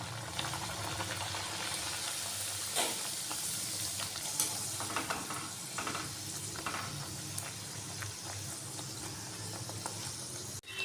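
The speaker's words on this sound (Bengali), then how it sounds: "এইভাবে সব পুরিগুলো ভেজে নেব।" Dal puri deep-fry in hot oil, a dense, continuous bubbling sizzle that fills the clip, with faint stirring clicks now and then and no talking.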